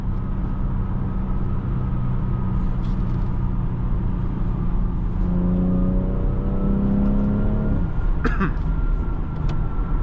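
A 2025 BMW X3 M50 hybrid accelerating, heard from the cabin as a steady engine drone that rises in pitch in smooth stepped climbs, partly synthesized sound, over constant road noise.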